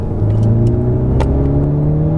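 A car engine on a race circuit revs and accelerates steadily, close and loud, its pitch holding in a strong droning tone.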